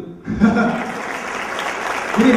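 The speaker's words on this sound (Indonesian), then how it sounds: "Tepuk tangan dulu." A seminar crowd at a motivational event in Surabaya bursts into steady, dense clapping that holds at a consistent level for a couple of seconds; a speaking voice briefly rises over the sound.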